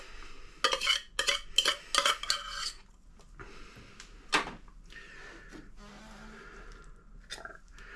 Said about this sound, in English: I'm breaking the tuna up as fine as I can with my fork as I'm scraping it in there